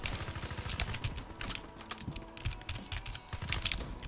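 Computer keyboard keys clatter in quick, uneven bursts while someone plays the video game Black Ops 3, close and fairly quiet, with faint game sounds mixed in behind.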